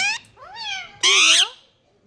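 A green parrot imitates a cat's meow, giving two or three short, rising and falling meow-like calls, close and clear, the last one louder and brighter.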